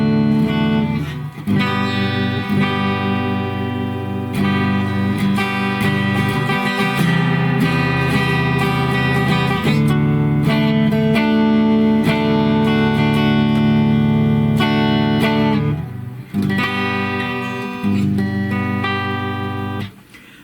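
A clean electric guitar plays sustained chords and ringing notes, loud and continuous, with a couple of brief pauses between strums.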